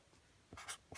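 Someone writes out a three-digit subtraction sum, a few brief scratchy pen strokes close by in a quiet room.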